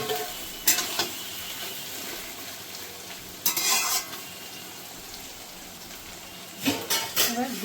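Onions and chopped tomatoes fry in a pan for a mutton curry, giving a soft steady sizzle with a few bursts of stirring and scraping, including one near the start, one in the middle and one at the end.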